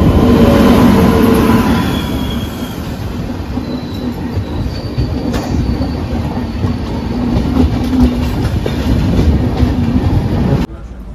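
Shantiniketan Express running from Bolpur to Howrah, a loud steady rumble of rolling rail cars with wheel squeal and faint clickety-clack, continuous throughout and cutting off sharply near the end.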